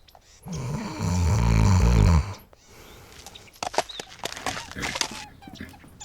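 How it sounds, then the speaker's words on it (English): Deep, rumbling snoring rises into one loud drawn-out breath, then gives way to quieter scattered clicks and snuffles. "It means to breathe in and out in a noisy way while you are sleeping, like this."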